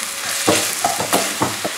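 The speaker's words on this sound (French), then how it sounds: "Ensuite je laisse cuire ma farce juste quelques minutes" A chicken filling with garlic, parsley, coriander and spices cooking in a pan, a close, even sizzle with four or five quick spatula stirs scraping through it, no voices.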